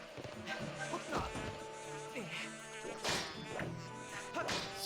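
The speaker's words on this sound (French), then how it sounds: "Je suis fait attaquer par des abeilles." Bees swarming to attack in the video game The Legend of Zelda: Skyward Sword, a dense, wavering insect buzz that rises and falls in waves over tonal game music, with no talk.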